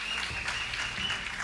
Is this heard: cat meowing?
no